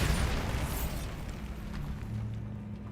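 Bombarda explosion spell cast in a Harry Potter video game, a loud booming burst that opens the sound and fades into a long rumbling decay with scattered debris crackle.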